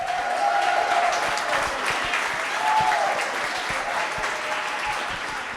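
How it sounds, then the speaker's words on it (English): An audience claps for a speaker at a creative arts venue at 718 Hertel, a dense, steady round of applause from a crowd that holds through the whole stretch with a few faint calls mixed in. "Let's hear it for Nick"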